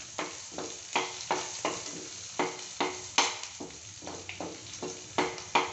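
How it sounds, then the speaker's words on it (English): Garlic sautés in a hot pan while being stirred for chicken wings with cabbage, giving a steady sizzle broken by regular scraping strokes of a spatula, about two per second, close and clear. "saute the garlic first. Let it brown."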